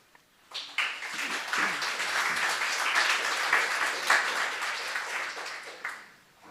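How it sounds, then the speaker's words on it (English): Applause from an audience at a launch event starts abruptly, swells into a dense round of clapping, holds steady, then fades away near the end. "I think that deserves another round of applause,"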